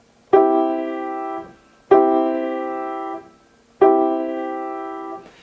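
A piano chord struck three times at an even pace, each held for about a second and then released, with the highest note ringing out most.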